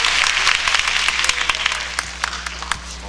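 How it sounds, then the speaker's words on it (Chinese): Audience applause at a Christmas praise service after the host volunteers to perform with a diabolo, a dense, steady wash of many hands clapping throughout with a few sharper individual claps standing out. "掌声！"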